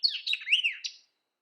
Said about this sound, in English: the white-eyed vireo chimed in